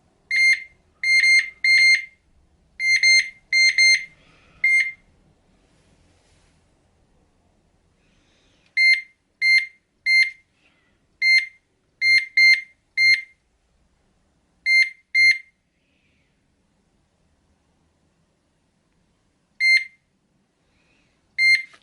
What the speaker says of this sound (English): You just get one beep to say they're on